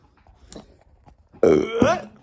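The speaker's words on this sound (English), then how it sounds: "that's why you might hear me burping like that a little more than just once" A person burps after lunch in a mukbang with a peppermint milkshake and a frosty: a loud, close, guttural belch with a quick second burst, after faint mouth noises and soft shuffling.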